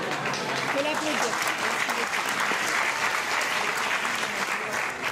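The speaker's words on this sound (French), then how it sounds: "Faut l'applaudir" Steady audience applause at an improv theatre show, a dense even wash of many hands clapping throughout, with faint voices murmuring beneath it.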